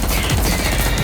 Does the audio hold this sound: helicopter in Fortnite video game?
no